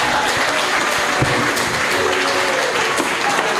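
A graduation audience at a Kenyan celebration claps steadily after a closing speech, a continuous dense roar of hands with occasional sharper claps standing out near the front.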